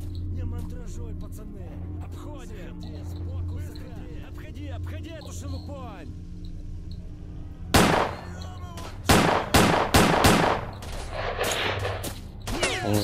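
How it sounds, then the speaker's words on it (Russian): Gunfire in the video game S.T.A.L.K.E.R.: Shadow of Chernobyl, with several sharp loud bursts and shots in the second half over a low ambient drone, after quieter background sounds at the start. "Они везде ведут прострелы просто."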